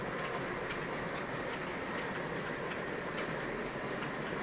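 MTH Premier E8 model train locomotives run along a layout, making a soft continuous rolling whir with light rhythmic track clatter and no talk.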